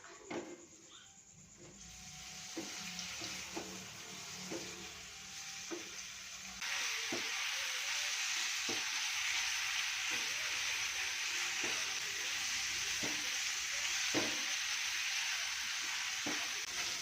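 Shredded chicken is stirred into sambal frying in a pan, a steady sizzle that grows louder partway through, with regular scraping knocks of the spoon against the pan.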